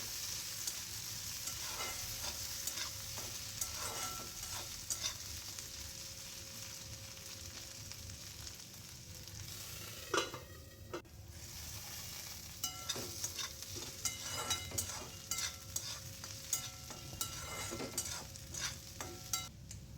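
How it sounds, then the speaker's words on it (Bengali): Diced potatoes and onions fry together in a pan with a soft, steady sizzle, while a spatula scrapes and knocks through them at irregular intervals. "দুটো একসঙ্গে একটু ঢাকা দিয়ে দিয়ে ভাজবো কারণ আলুটা তাহলে একটু হালকা সেদ্ধ হয়ে যাবে"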